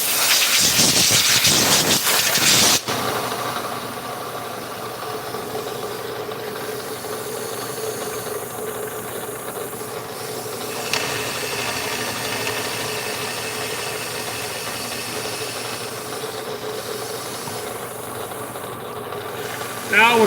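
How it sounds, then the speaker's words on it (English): A CNC machine mills the second gear passage of a valve body, opening with a loud burst that settles into a continuous machining hum with hiss. "This is second gear passage that I'm milling now."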